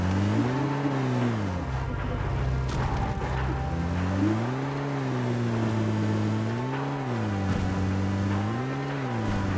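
Vehicle engine in the video game PUBG, a loud continuous drone that rises and falls in pitch in repeated waves as the vehicle speeds up and eases off, alone without talk.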